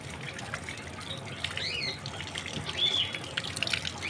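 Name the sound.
water running while washing mangoes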